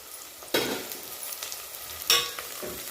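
Potatoes and onions fry in hot oil for khari bhaat, giving a low, steady sizzle. Two sharper scraping stirs of a spoon in the pan stand out, close and fairly quiet.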